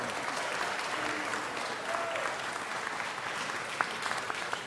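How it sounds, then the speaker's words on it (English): A room full of people at a city council meeting in City Hall claps steadily, a dense, even applause with a few voices faintly mixed in underneath. "So let's give Council Member Kaz Amano a round of applause and official welcome to City Hall."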